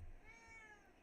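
Domestic cat meowing once, faint and close, a short rising and falling tonal cry in a quiet room with no talking.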